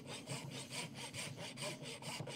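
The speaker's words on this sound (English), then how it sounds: "my rasp is only getting that spot" A farrier's rasp files a horse's hoof that has a quarter crack, a steady series of about seven quick, even scraping strokes, close and fairly faint, with no talking.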